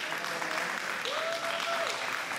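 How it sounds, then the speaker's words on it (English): Steady applause from a crowd heard at a distance at a crokinole championship semifinal, a soft continuous wash of clapping with a faint tone ringing through it. "Hearing some applause"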